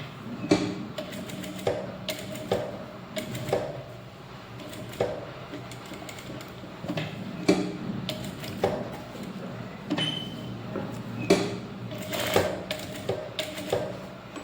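Sewing machine stitching a blouse back neck design along canvas, bursts of rapid mechanical whirring and clatter that start and stop repeatedly, close and steady, with no talk.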